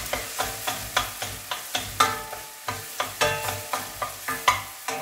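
Homemade tomato paste sautéing in a pan for a Turkish zucchini and rice dish, with a rapid, regular rhythm of spoon strokes scraping over a steady sizzle, close and fairly loud.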